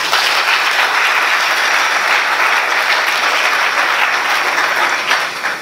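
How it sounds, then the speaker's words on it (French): A large audience applauds 165 young Congolese graduates at a ceremony, steady, dense clapping sustained loud and close throughout with no talk over it. "Je vous demande de les applaudir."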